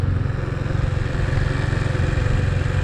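A motorcycle engine idles and putters down in a low, steady, close rumble, easing off with no voices.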